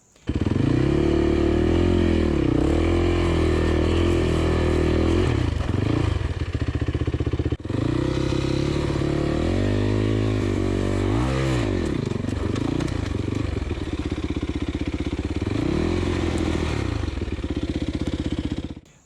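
An off-road motorcycle engine revs hard and continuously during a river crossing, pitch rising and falling as the throttle opens and closes, loud and close throughout.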